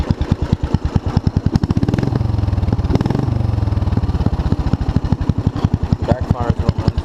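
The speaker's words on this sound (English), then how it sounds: "This is the sound test of the new exhaust." Murray lawn mower engine with a new exhaust and an E3 spark plug, running loud and close with a rapid rough chugging that swells and eases, popping and backfiring throughout.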